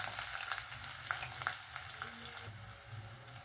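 Ginger garlic paste and cumin sizzle in a hot pan for a soya chunks curry, a dense steady frying hiss broken by scraping stirs from a spoon, close and continuous.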